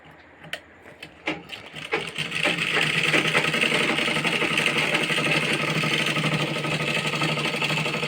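Sewing machine stitching along the edge of a garment bottom while making a Patiala salwar, a few sharp clicks and taps at first, then a steady continuous mechanical whir that holds to the end.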